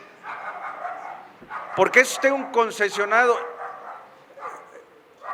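A dog barks and yips at a political talk event, sharp bursts near the middle rising over someone speaking Spanish into a microphone, with talk continuing around it.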